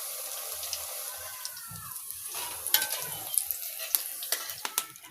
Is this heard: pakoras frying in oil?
yes